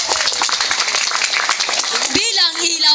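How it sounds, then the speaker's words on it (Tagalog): Crowd applause fills the scene, dense and steady, with a voice rising over the clapping toward the end. "salubungin nating lahat ng palakpak na mainit"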